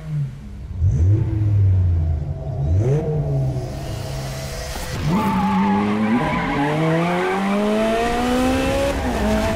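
An Aston Martin driven hard in The Crew racing game, its engine revving up through rising gear pulls while tires squeal and skid, loud and close, with repeated shifts and a long climbing rev near the end.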